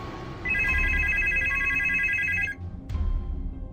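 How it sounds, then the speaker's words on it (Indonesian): A Nokia 1280 mobile phone rings with a bright, trilling electronic tone for about two seconds over a low rumbling background, then falls silent, with no voices. "Berulang kali HP Nokia 1280 miliknya berdering, namun tidak diangkat"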